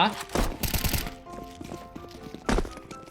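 Gunfire in Counter-Strike 2, with rapid bursts of sharp shots near the start and again around the two-and-a-half-second mark, while a voice talks over the game.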